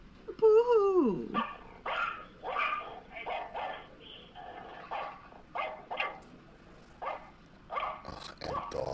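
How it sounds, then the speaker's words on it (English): Several dogs bark in short, repeated bursts at moderate distance over a few seconds. A brief whine or yelp comes first. "My favorite, barking dogs."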